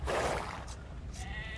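Sheep in the video game Age of Empires 2 give a single short bleat, close and clear, that fades quickly into quiet game ambience.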